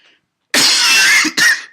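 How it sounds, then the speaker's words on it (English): A man's coughing fit: a long harsh burst of coughs followed by a second shorter cough, loud and close, with no other sound around it. "Excuse me, man, the coughing attack."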